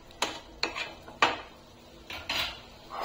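Bottle gourd halwa being scooped from a pan into a bowl, with several sharp metal spoon-on-pot clinks and scrapes at an irregular pace, close and fairly quiet.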